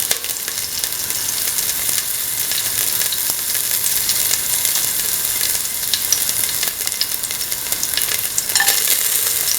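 Peppercorns sizzle in hot oil for a bottle gourd, potato and coconut milk stew, a steady close frying crackle and hiss running throughout with small pops, no voices.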